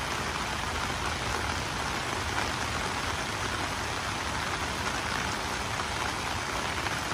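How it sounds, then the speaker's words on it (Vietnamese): Heavy midday rain pours steadily for the full stretch, a dense, even hiss of drops on surfaces with no other sounds above it. "Lớn lắm, hôm nay mưa lớn,"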